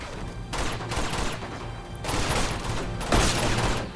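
Bursts of gunfire from Uncharted 2: Among Thieves, firing in several rapid volleys separated by short pauses, fairly loud and close with a dense rattling texture.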